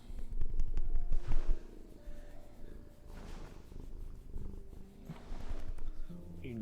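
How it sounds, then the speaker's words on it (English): A cat purrs steadily and closely while being hugged, a continuous low rumbling purr with breathy cycles, heard alone over a faint game soundtrack. "He is doing a purr."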